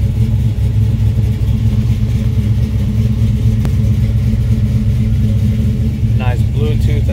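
A 1970 Chevelle with a built LS7 650 hp engine running, a loud, constant deep rumble filling the space, with a voice talking over it near the end.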